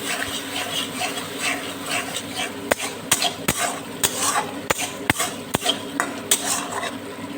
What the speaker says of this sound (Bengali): এবার একটু নাড়াচাড়া করে দেবো